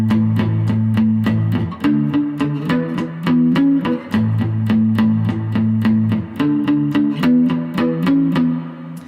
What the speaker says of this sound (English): Now we're gonna go play some power chords.